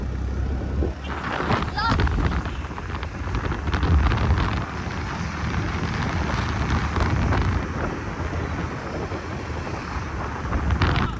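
Heavy wind buffeting a microphone on a trip along the Melamchi–Indrawati river, a constant low roaring rumble that stays loud throughout, with voices faintly present underneath.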